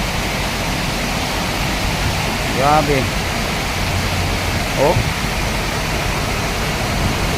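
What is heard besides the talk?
swollen river rushing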